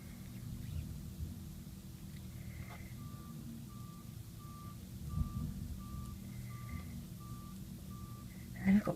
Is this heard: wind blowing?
no